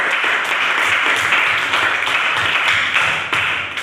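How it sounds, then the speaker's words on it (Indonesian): Group applause for a class group that has just finished presenting, a dense steady patter of clapping hands throughout, close and fairly loud, tapering slightly at the end. "tepuk tangan dulu untuk kelompok satu"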